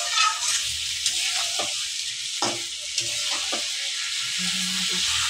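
Spices and vegetables for a Bengali fish curry with potato and cauliflower, fried in a pan with turmeric, chili and cumin pastes, are stirred through steady sizzling, with a few scraping clicks and no talk.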